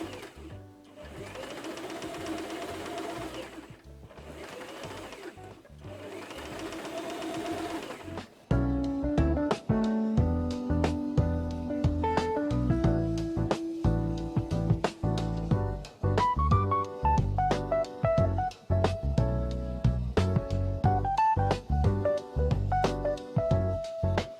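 A sewing machine stitching in a garment sleeve, first in short whirring runs with pauses, then in a long steady loud run of rapid stitching close by, with faint background music and no talk.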